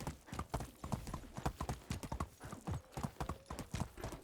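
Horse hooves clip-clopping in a steady rhythmic gait while riding in the medieval game Medieval Dynasty, close and clear, with a brief whinny-like tone partway through and no talk.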